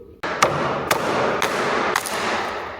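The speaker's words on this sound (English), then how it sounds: "We just used a hammer to knock it off" A hammer strikes a temporary shipping cleat off a cedar shed wall panel, giving four or five sharp, evenly spaced knocks about half a second apart over steady background noise.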